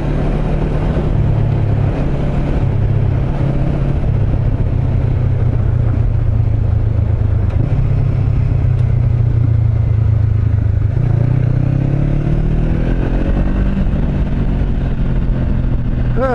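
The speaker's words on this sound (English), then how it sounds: "change the gear again, I'll just rev it out in a second" A motorcycle on a narrow dirt road, its engine loud and close throughout, holding a steady drone with shifts in pitch as gears change and it revs up.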